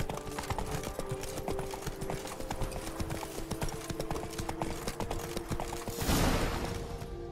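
Roach, a horse in The Witcher 3, gallops with a steady, rapid clip-clop of hooves throughout, a swell of rushing noise rising near the end.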